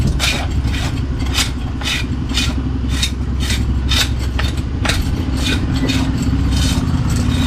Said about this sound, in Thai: ขูดใหญ่แล้วครับ เสียงเยอะนะครับ